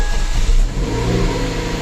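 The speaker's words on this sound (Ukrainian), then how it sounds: "Запускаємо двигун." A Fiat 500X petrol engine catches and settles into a steady close idle after starting, with a brief rev at the start, loud and alone without talk.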